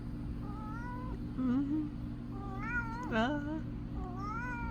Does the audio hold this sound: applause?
no